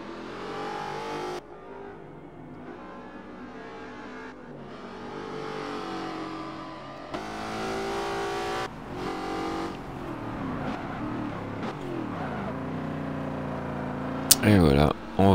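Aston Martin V8 Vantage V600 engine at Mount Panorama in Forza Motorsport 7, revving up and down through gear changes with rising and falling tones, while someone talks over it.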